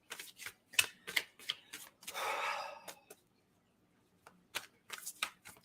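Tarot cards are shuffled and drawn by hand in a quiet room, with rapid riffling flicks, a brief sliding rasp, a pause, then more soft card snaps close by.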